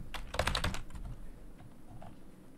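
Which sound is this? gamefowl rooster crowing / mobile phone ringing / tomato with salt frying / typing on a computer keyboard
typing on a computer keyboard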